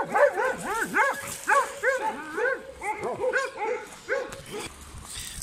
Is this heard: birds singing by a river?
no